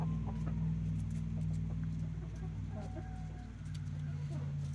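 Backyard chickens cluck and coo close by in a steady low chorus, with a faint voice and a constant hum underneath.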